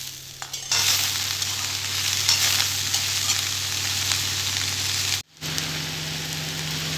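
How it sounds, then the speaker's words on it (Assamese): Cabbage, radish and potato stir-fried in a pan give a steady, loud sizzle with scraping stirs, briefly cut off near the end before the frying resumes. "এতিয়া বন্ধাকবিখিনি দি দিছোঁ আৰু এয়া লৰাই দিছোঁ মই ভালকৈ"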